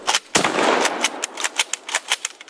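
A UTS-15 shotgun fires one loud, close blast that trails into a long ringing echo, followed by a series of sharp clicks and mechanical clacks from the action.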